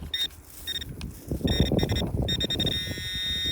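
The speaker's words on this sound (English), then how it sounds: "Fortunately, I've got a metal detector." Metal detector signal beeping in a field while searching for a lost find, a series of short bright electronic tones, some repeated in quick bursts, ending in a sustained tone over rustling and handling noise.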